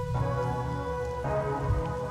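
Steady rain patters on surfaces in the game Rain Code, a continuous hiss carrying through under a low sustained musical drone, with no voices.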